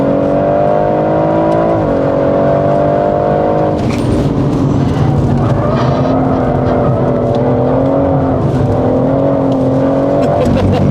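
A BMW M140i or M4 accelerates hard around a race track, its engine note loud and close with harmonics climbing and dipping through gear changes, continuous for about eleven seconds.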